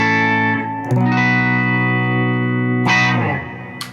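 Electric guitar played clean through a Benson Vincent amp on the Suhr Thornbucker bridge pickup with all controls at ten: a bright ringing chord, then a second strum that sustains and decays, then a fresh strike near the end.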